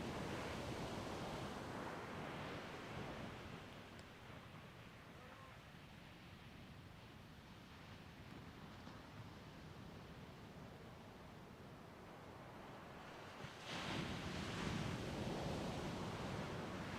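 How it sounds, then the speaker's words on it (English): Ocean waves breaking at the top of a surf point during a surf and SUP championship on Little Andaman, heard as a continuous distant wash of surf with wind, a quieter middle stretch and a louder wave surge near the end. "Some waves coming up the top of the point."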